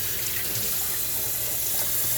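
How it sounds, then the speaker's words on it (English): A kitchen tap runs steadily while a glass is filled with water, a continuous close-up rushing hiss with no talking. "I have to get a glass of water"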